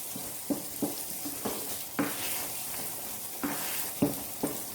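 A spoon stirs a sticky biuli dal filling in a pan, making soft scraping strokes that come in an irregular rhythm of about nine over a faint sizzle, close by and with no voices.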